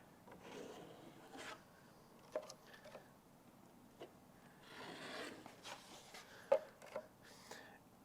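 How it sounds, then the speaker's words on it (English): A drywall knife scrapes and smears joint compound over a wall patch in soft, intermittent strokes, faint and close, with occasional light taps between passes. "So now I'm going to spread drywall compound"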